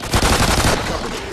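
A close, loud burst of rapid gunfire from the shooter game Extinction, a quick run of sharp shots that fades out after under a second.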